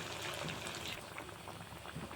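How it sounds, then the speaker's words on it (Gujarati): Sabudana vada deep-frying in oil over a medium gas flame, a soft continuous bubbling sizzle heard close but at low volume, without pause. "આ વડાને આપણે મીડિયમ ગેસ ઉપર તળવાનું છે"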